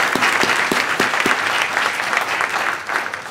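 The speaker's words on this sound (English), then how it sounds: "and another round of applause, please." An audience at a sustainable food systems workshop applauds, a steady wash of clapping from many hands, a few sharp claps standing out near the start, sustained throughout.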